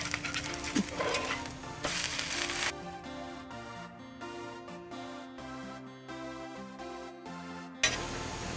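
Corn dosa sizzles in oil on a hot pan, a steady close frying hiss with soft background music underneath.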